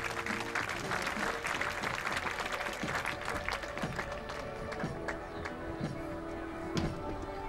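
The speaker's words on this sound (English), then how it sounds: "You hear that cheer there as the play's just about to get underway" Spectators at a Commonwealth Games men's fours lawn bowls match applaud and cheer at a distance, a steady spread of clapping filling the open-air setting.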